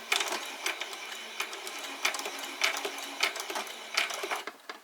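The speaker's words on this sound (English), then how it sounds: "my machine makes that noise because it's an embroidery machine and it's telling me to cut" An embroidery machine runs with a steady, rhythmic mechanical clatter, and short bright tones repeat every second or so, close and moderately loud with no talking.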